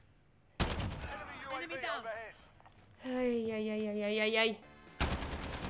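Gunfire in a first-person shooter match: loud, dense bursts of shots erupt at the start and again near the end, with a voice talking excitedly between and over them.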